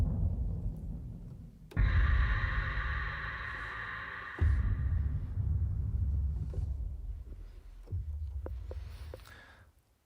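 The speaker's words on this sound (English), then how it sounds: "very important in the production is all this sub bass thing and sub hits" Deep sub bass hits from the Evolution Dragon trailer music library roll out as long rumbling booms, three heavy impacts in a row, the first layered with a bright sustained tone, each decaying slowly into low throbbing.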